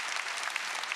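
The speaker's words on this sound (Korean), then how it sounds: "박수 치려면 세게 치고." A Korean church congregation at a Sunday worship service claps in a dense, continuous burst, many hands at once, filling the moment without talk.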